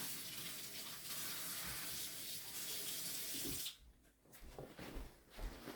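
Water runs from a tap into a kitchen sink, a close steady rushing hiss that cuts off partway, followed by a few soft clunks and splashes.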